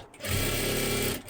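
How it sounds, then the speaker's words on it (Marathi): A sewing machine runs a quick burst of double stitching on a frock made from a net saree, a steady close motor whir of about a second with rapid needle rhythm. "आता ह्याच्यावरती परत इथूनच डबल शिलाई देऊन द्या."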